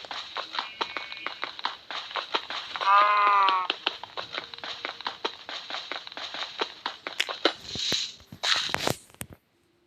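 Repeated sheep bleats sound from Minecraft, with a steady run of clicking footsteps or hits and a loud bleat in the middle.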